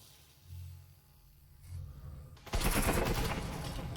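Gunfire punches through walls in a tactical shooter video game, a low rumble giving way to a sudden, sustained loud burst of rapid automatic shots.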